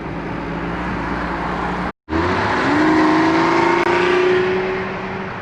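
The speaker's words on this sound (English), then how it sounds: "I'm very happy with the stock exhaust note" A 2020 BMW X3 M40i engine revs loudly through its stock exhaust, cuts out abruptly for a moment, then roars back and climbs in pitch.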